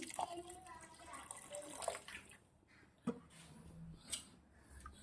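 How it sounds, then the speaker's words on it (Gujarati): Water is poured into a pot of fenugreek seed khichdi on the stove, giving splashy bursts and trickles with a few sharp clinks, moderately close and fairly quiet. "થોડું પાણી નાખી દઉં છું."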